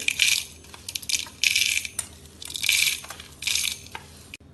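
Roasted spices and broken dried chillies for rasam powder are tipped into a mixer grinder jar in four separate bursts, each a rattling, clattering pour of dry pieces against the jar, with quiet pauses between.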